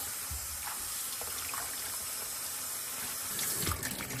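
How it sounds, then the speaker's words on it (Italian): Broccoli rabe tops rinsed under a running kitchen tap, a steady close rush of water with light splashes and a brief louder gush near the end, no voices. "Le sciacquo sotto acqua corrente"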